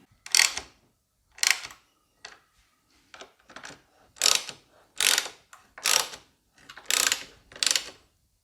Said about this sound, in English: I'm going to go ahead and tighten up all these bolts now.